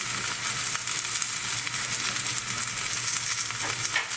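Green tomato slices fry in a pan, giving off a steady, close hiss of sizzling oil with no voices and only slight shifts in intensity.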